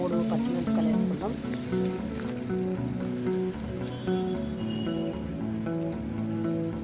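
Green chilies and ginger paste frying in oil for a drumstick tomato curry, a steady close sizzle under a faint melodic background tune, with no pause throughout.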